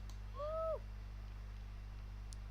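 A bird in the video game Niche gives a single short hooting call with a rising then falling pitch. It sounds alone over a steady low background hum.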